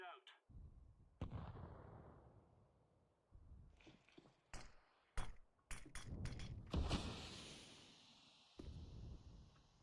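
Counter-Strike 2 match audio with sharp, punchy bangs and thuds in irregular bursts, one heavier blast ringing out near the middle, over a quiet background of game ambience.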